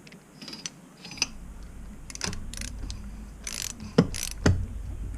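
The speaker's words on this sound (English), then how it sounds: "So I got the wrench on there, holding the 14mm lock nut, and I'm loosening up the cap." A wrench loosens the front fork dust cap on a Honda CRF150R dirt bike while a 14mm lock nut is held, producing close metallic clicks, scrapes and a couple of louder knocks over a low background hum.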